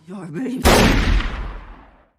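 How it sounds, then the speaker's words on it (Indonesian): A single loud gunshot rings out in a film scene, a sharp blast followed by a long booming decay, preceded by a brief tense rumble. "Bill pun menembak Beatrix tepat di kepalanya"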